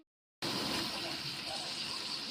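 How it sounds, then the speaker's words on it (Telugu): Water runs steadily into a large vessel while rice is washed in a home kitchen, a continuous close rushing and swishing that starts abruptly after a brief silence. "బియ్యం కడిగే"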